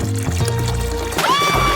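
Fizzy cola pours from a bottle into a pet enclosure, a steady close gushing and splashing stream that rises in pitch toward the end as the container fills.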